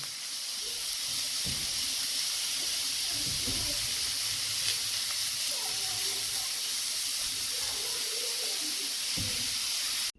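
Carrots stewing with chopped onions in a pan for an eggplant stuffing give off a steady, soft hiss and gentle sizzle, with a few faint low knocks. No one speaks.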